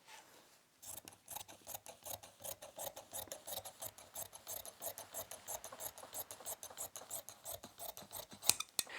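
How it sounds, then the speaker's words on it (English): Scissors snipping through sofa bed slipcover fabric in a rapid, steady run of crisp cuts, close and loud, with no talking. "So let's cut this free, and then I will set up my fabric to cut the inside arm"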